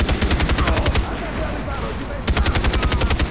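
Rapid machine gun fire in the video game Far Cry 3, loud close bursts of fast repeated shots that stop for about a second and then resume.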